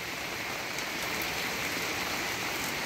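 Heavy rain after a typhoon pours steadily over a flooded sponge gourd patch, a dense, loud, unbroken hiss of falling water with no voices.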